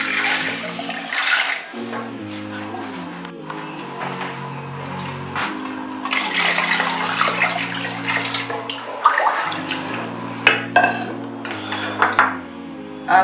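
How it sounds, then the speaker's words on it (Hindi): Water pours steadily into a metal cooking pot of rice for mutton tahari pulao, a rushing splash that swells and eases, with music playing throughout in the background. "हम 9 गिलास पानी डालेंगे।"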